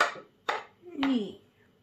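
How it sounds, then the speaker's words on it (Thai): Spoon stirring tuna sandwich filling with pickled cucumber and carrot in a bowl, a few soft scraping and clinking strokes, close and fairly quiet. "คนนะจ๊ะคนให้มันเข้ากัน"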